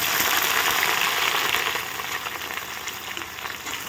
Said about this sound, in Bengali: তেল গরম হয়েছে, লাল আলুগুলো ছেড়ে দেওয়া হলো।